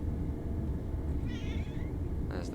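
A cat meows inside a passenger train cab on a simulated LNER Class 801 run along the East Coast Main Line, giving a few faint, short mews over a steady, loud rumble of the train.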